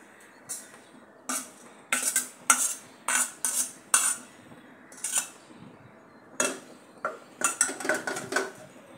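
Green chillies, onion, coriander and spring onion being mixed in a bowl, a series of sharp irregular clinks and scrapes of a spoon against the bowl, close and loud, with short pauses between bursts.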